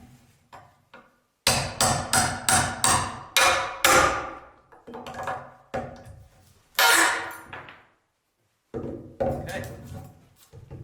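A metal-handled hammer pulls nails with a rapid series of sharp, loud knocks and prying clanks, some in quick bursts and others spaced apart with pauses between.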